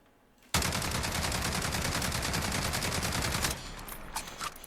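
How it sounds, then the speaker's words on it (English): Sustained full-auto burst of the L85A2 rifle in Call of Duty Modern Warfare, a rapid even stream of loud gunshots lasting about three seconds, then stopping into a quieter tail with faint clicks. "I'm just going to fire this thing straight without controlling my recoil at all against this wall"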